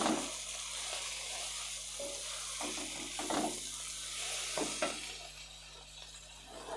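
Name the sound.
cabbage being stirred and fried in a pan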